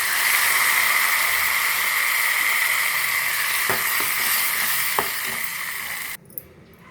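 Salted lentil mixture of toor dal and fenugreek leaves hitting a hot pan, a strong steady sizzle with a couple of sharp utensil knocks, then cutting off abruptly near the end.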